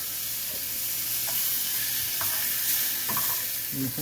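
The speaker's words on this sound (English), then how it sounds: "Now watch me sizzle. Now watch me stir." Alfredo sizzles steadily in a hot pan, with scraping and stirring clatter of a utensil against the pan at a few scattered moments.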